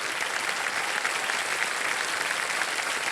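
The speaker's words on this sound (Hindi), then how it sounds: "तालियों के साथ उनका अभिनंदन करते हैं" Studio audience on the KBC quiz show set clapping together, a dense, loud, even wash of applause that stays constant with no voices over it.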